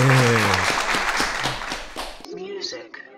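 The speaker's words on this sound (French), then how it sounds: "On l'applaudit bien fort, s'il vous plaît." A studio audience applauds a talk show guest being welcomed onto a French-language set, clapping loud and steady under a voice before cutting abruptly to quieter sound with music-like tones.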